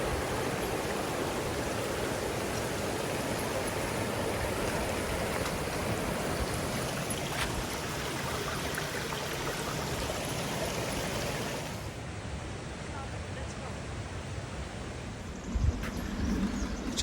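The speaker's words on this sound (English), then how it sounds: "It's right by the creek" A forest creek flows with a steady broadband rush of water, continuous and fairly close, softening slightly near the end with a faint knock or step.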